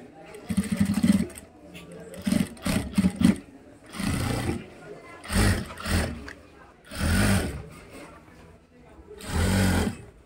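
A sewing machine stitches gabardine pants in bursts of a few seconds each, separated by short pauses. The whirring is fairly loud and runs under steady talk.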